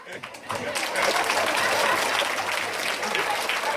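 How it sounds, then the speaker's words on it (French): An audience applauds after a theatre play put on by an association, the clapping swelling in after a brief pause into sustained, full applause from a crowd. "On peut les applaudir encore une fois bien fort, mesdames et messieurs."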